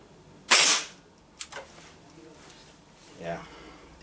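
A single sharp crack from a tuned HW97KT air rifle firing, close and fairly loud, followed by quieter handling clicks and faint rustling.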